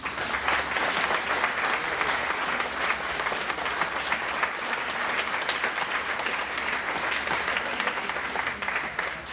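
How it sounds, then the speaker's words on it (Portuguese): Sustained applause from a festival audience at a Graciosense community celebration in Lowell, steady and dense throughout, with no speech over it. "pedia mais uma salva de palmas para essas pessoas todas"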